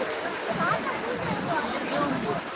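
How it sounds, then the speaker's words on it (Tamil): Sea waves at Kanyakumari, a dense continuous wash of surf and rushing water heard up close and fairly loud, with no distinct breaks between waves. "கடலோட அலை பாருங்கள் எப்படி இருக்குதுன்னு"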